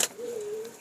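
A single soft coo from a Rampuri pigeon, a low steady tone held for most of a second after a brief rustle, fairly close and alone.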